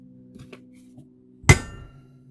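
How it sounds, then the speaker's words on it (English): A hammer strikes a cold chisel on the welds of a transformer box being scrapped, one sharp metallic hit after a few faint taps. "I'm going to use a cold chisel here and just hit it with the hammer."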